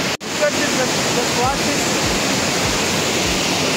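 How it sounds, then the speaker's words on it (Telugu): Loud, continuous roar of rushing water pouring through reservoir gates at Sriram Sagar, a dense unbroken wash of noise close by. "జస్ట్ వాటర్ ఫ్లో చూడండి ఎంత డేంజర్ కొట్టుకుంటున్నది."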